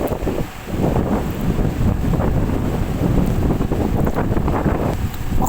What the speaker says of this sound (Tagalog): biglang lumakas ang ihip ng hangin